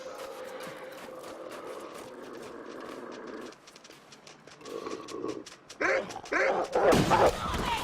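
Dog barking in the survival video game The Long Dark: a handful of sharp, loud yips and barks come in close succession near the end, after a stretch of steady ambient wind-like noise.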